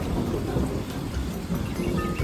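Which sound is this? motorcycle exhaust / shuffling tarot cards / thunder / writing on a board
thunder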